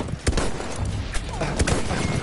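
Battlefield 1 multiplayer gunfire crackles through a busy battlefield din, several sharp shots popping at irregular intervals over constant rumbling noise.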